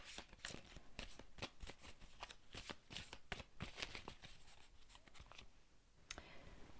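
A deck of cards being shuffled during a yes-or-no card reading, a rapid series of crisp riffling snaps, soft and close, repeating for several seconds with a brief pause near the end.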